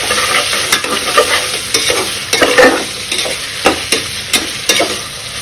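Vegetables including beetroot sauté in hot oil in a pan, a steady close sizzle broken by regular scraping strokes of a spoon stirring, with no voices.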